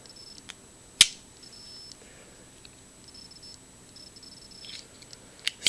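Scissors on a 1960s Wenger Allsport Swiss army knife being worked, giving a sharp close snip, then faint scattered ticks and clicks and a couple of crisp snaps near the end.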